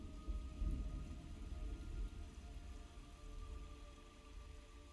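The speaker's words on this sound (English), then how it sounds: "It's raining blood." Steady rain patters with a low rolling thunder rumble early on in a Metal Gear Solid 3 Delta game scene, faint and continuous, no talk.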